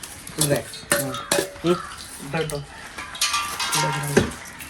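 Cashew nuts go into a pan of hot oil for chicken biryani, with metal spoon scrapes and clanks against the pan over a soft sizzle, in uneven bursts close by.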